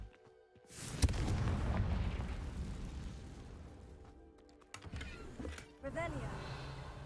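A sudden Confringo spell blast in Hogwarts Legacy bursts out and rumbles away over a couple of seconds, followed by a few shorter whooshing pops, with game effects lingering.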